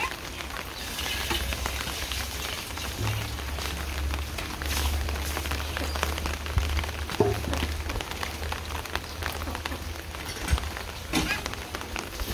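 Heavy rain falls steadily on surfaces outdoors, a constant close patter and hiss with a low rumble underneath, without any voices.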